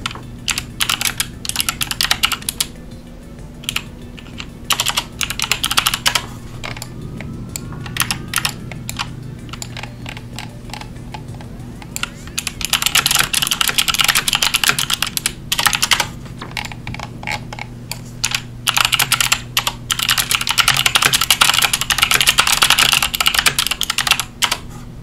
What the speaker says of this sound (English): Sorry if y'all hear my typing.